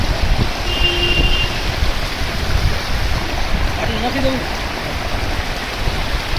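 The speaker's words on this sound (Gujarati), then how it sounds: "નદીમાં અત્યારે અમે નદીની અંદર આવેલા છીએ જ્યાં વહેતું પાણીને ખૂબ સુંદર નજારો હોય છે જેનો અવાજ તમે સાંભળો એકવાર" Continuous rushing of flowing river water heard from within the river near Junagadh, broadband and fairly loud, with a few faint voices and bird-like chirps in the background.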